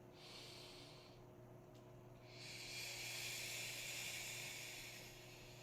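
A deep, drawn-out breath during a bodyweight strength workout, heard close and loud as a steady rushing hiss that eases briefly and then swells again into a long, forceful exhale.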